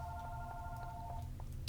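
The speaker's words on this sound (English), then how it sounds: "Sorry if you hear ringing in the background, it's just some telemarketer calling me" A telephone rings faintly in the background, its steady electronic tones pulsing softly beneath low room noise for a couple of seconds.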